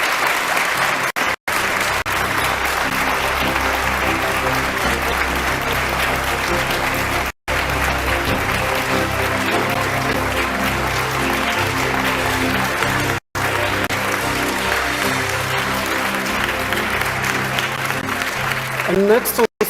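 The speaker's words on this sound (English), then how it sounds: "Let's give him a round of applause" A crowd at a Kenyan presidential candidates' event gives Uhuru Kenyatta of TNA, part of the Jubilee Alliance, a long, loud, continuous round of applause, broken only by a few brief dropouts.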